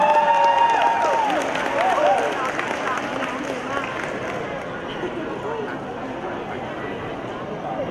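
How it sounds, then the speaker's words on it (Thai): An audience claps and cheers to welcome the first dance set, 'Num Fon Lor Fiao', at a child development centre show during a university retirement celebration; dense, steady applause with crowd noise, loudest at the start, then easing slightly while continuing. "ขอเสียงทุกท่านปรบมือต้อนรับให้กับการแสดงในชุดแรกที่ชื่อว่าหนุ่มฟ้อหล่อเฟี้ยวครับ"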